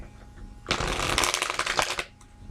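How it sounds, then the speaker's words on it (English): Tarot cards being shuffled close by, a quiet pause followed by a loud riffling burst of rapid card flutters for over a second, then quiet again. "I think I need to shuffle this one more time."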